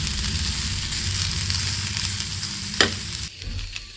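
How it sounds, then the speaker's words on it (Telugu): Spices and chaat masala frying and being stirred in a pan, a steady close sizzle with scraping strokes and a sharp clink near the end, no voices. "ఇది కూడా పచ్చి వాసన పోయేదాకా వేపండి"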